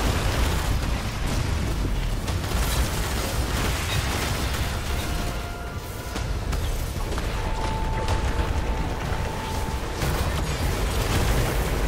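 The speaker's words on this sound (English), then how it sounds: "mass explosion" A mass explosion in the Destiny video game brings a long run of loud booming blasts and bursting pops, dense and continuous with only a brief dip partway through.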